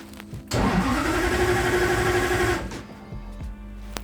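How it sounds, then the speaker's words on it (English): A starter motor cranks a Toyota 1UZ V8 for about two seconds, a loud close whirring churn that starts abruptly and then cuts off into quieter background hum. "When the starter's running, the battery drops too low."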